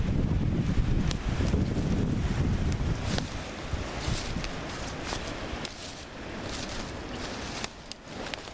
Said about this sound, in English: the wind's going there again.